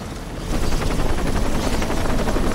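A helicopter in the Shadow of the Tomb Raider video game, a dense rotor-like whir that kicks in after a brief lull and holds loud and steady, with rough rumbling beneath.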